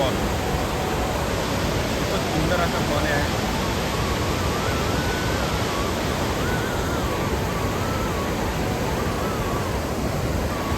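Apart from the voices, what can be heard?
waterfall roaring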